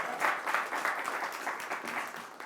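An audience applauds steadily, a dense wash of many hands clapping at once with no voices over it.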